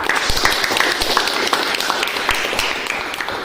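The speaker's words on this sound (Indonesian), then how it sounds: "kita berikan tepuk tangan." Audience applause in a classroom setting, a dense, steady wash of many hands clapping at moderate loudness for a few seconds, with faint voices mixed in.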